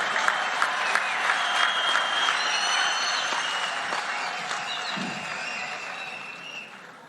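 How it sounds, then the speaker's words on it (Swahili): A church congregation in Tharaka Nithi applauding, broad sustained clapping from a large crowd filling the whole stretch and tapering slightly toward the end. "Tumpigie makofi"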